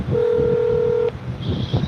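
A phone's touch-tone keypad sounds one long steady DTMF tone lasting about a second, with a murmur of background talk underneath, placed to call someone back after the line cut out.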